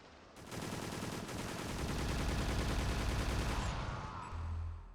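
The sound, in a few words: gunfire during a boss fight in a video game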